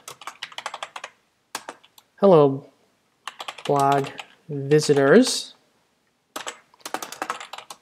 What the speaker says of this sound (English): But for now, we're just going to start typing.